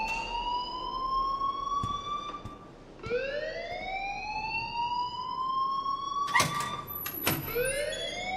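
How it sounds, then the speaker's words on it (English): A fire alarm wails in rising, sweeping siren tones that repeat every few seconds, with a few sharp knocks and clatters breaking in near the end. "please turn off that alarm since that's your job"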